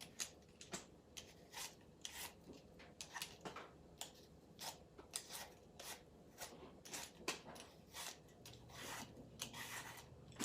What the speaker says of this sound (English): we are going to quickly take the peeling off the apple, and I'm just going to use one of the Pampered Chef